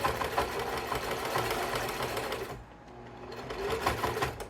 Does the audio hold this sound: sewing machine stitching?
yes